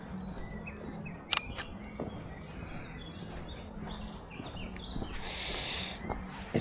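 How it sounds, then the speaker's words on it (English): Shutter of a Lumix GF2 camera on an outdoor dog walk, a few sharp isolated clicks spaced apart over quiet ambience with faint bird chirps. "It's got a lovely click shutter sound."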